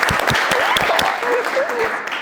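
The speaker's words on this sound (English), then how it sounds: "Can we get a really big round of applause?" An audience claps loudly for a founders panel at a conference event, dense continuous applause with a few sharp individual claps and a little cheering mixed in.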